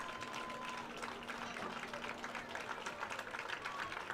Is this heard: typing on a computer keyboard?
no